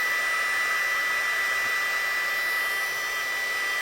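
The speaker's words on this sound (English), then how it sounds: "as soon as the heat embossing powder changes, I'll just follow the powder with my gun" A heat gun blows with a constant, steady whine and airy rush close by as it melts heat embossing powder on cardstock, unbroken for the whole stretch.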